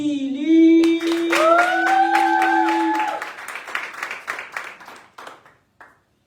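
Crowd at a live poetry slam applauds a performer: a sustained vocal whoop rings over the opening clapping, then the claps grow sparser and fade into a few scattered final claps.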